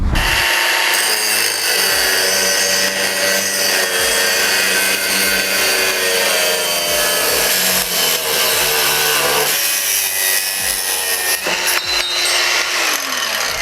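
An Assur cordless angle grinder cutting runs loud and close, a continuous high grinding whine with rough scraping texture and slight changes in pitch as it bites into the material. No one speaks.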